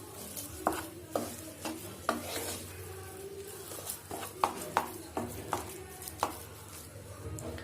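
Mashed potato being mixed with masala for aloo paratha filling, a spoon or hand stirring in a pan or bowl with a series of soft clicks and scrapes against the vessel, close and moderately quiet, with no talk.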